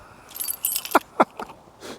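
Keys jangling inside a Ford Ranger Raptor, several close metallic clinks in quick irregular bursts over quiet background, no talk.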